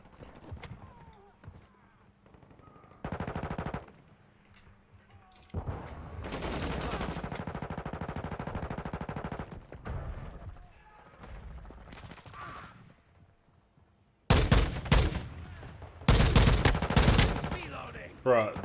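Fully automatic gunfire in the video game Modern Warfare II: several loud, sharp bursts of rapid shots separated by pauses, the longest spells of firing near the end, with occasional talk in between.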